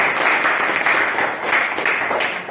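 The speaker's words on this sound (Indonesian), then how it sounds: "tepuk tangan untuk Aurea ya." Steady applause from a group, dense and continuous clapping throughout at close range.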